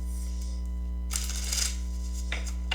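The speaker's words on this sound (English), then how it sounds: "One more shuffle." Tarot cards are shuffled over a steady electrical hum, with a couple of brisk riffling bursts of papery crackle, the first longer and the second shorter near the end.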